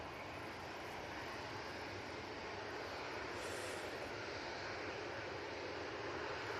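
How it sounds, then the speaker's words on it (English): Boeing 737-800 departing Manchester Airport for Malaga, a distant, faint but steady jet engine roar with broad hiss, holding evenly with a slight swell midway and no voices. "this is off to Malaga using the 737-800 for this flight"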